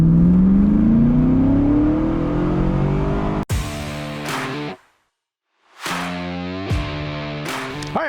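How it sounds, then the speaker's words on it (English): A 2002 Camaro Z28 convertible with an automatic transmission accelerates from a rolling stop. The engine climbs loudly in pitch, then drops and rises again through the gear shifts, with a brief silent gap partway through. "I'm just going to let the automatic transmission do its thing here and let this thing shift on its own from a rolling stop"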